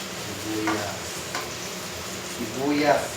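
Onions hiss and sizzle as they go into a hot pan for a Filipino alokbati and sardines dish, a steady frying crackle with brief louder bursts, heard close up beneath background kitchen noise.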